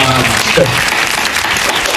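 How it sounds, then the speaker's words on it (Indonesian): A room of people applauding during a podcast recording, loud close clapping that starts strong and keeps a dense, even patter for about two seconds, with a brief voice near the start. "Ya, boleh tepuk tangan dong."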